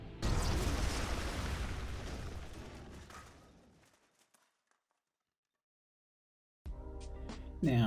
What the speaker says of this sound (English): You may have recognized the sound of the explosion there.